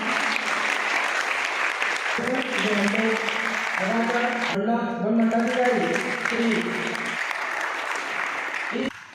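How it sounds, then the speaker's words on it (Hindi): Applause welcoming two guests at a district-level biodiversity quiz event, steady clapping throughout while a voice talks over it and music or chanting tones come in partway. "जोरदार तालियों से स्वागत कीजिएगा।"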